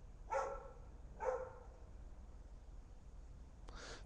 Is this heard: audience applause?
no